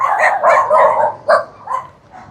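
A dog barks on a residential street, several rough, close barks in a short uneven burst followed by a couple of softer yips, with faint traffic hum underneath.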